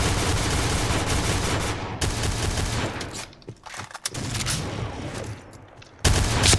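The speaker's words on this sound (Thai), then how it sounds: "ถ้ายิงหัวต้องค่อย ๆ ยิงนะครับใจเย็น ๆใจเย็นๆนะ การยิงหัว" Noveske N4 rifle fire in the shooter game Point Blank, a near-continuous rattle of loud close gunshots in rapid bursts with short breaks, ending in a sharp fresh volley.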